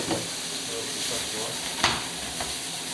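Bacon lardons sizzling in a pan, a continuous close frying hiss with a brief sharp crackle burst and faint stirring sounds, no clear talk.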